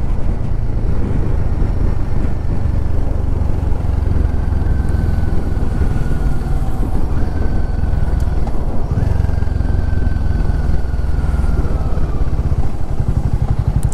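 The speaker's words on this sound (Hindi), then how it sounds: "क्या भागती है ये बाइक" A Royal Enfield Himalayan 450 motorcycle ridden along a mountain road by the Beas River, between Jibhi and Kasol, gives a steady, loud, close engine drone with wind rush and no talking throughout.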